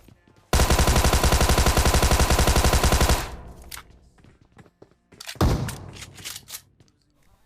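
Tommy gun fire in the video game Free Fire: a loud, rapid sustained burst lasting about two and a half seconds, followed by quieter thuds and a second short burst of game effects.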